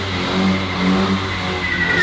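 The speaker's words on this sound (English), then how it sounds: "I think we just did a couple of burnouts." A budget drift car does burnouts with its engine revving hard and steadily as the tyres skid, a loud continuous roar that rises slightly near the end.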